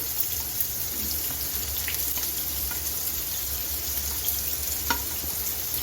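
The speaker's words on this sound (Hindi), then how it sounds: "सबसे पहले हम प्याज जो है वो फ्राई पैन में डाल के इनको लाइट ब्राउन करते हैं" Onions fry in a frying pan for baingan bharta, giving a steady, fairly loud hissing sizzle with occasional faint clicks of a stirring utensil and no speech.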